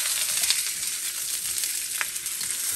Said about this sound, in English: put your sliced onion in there. Toss it around, cook it.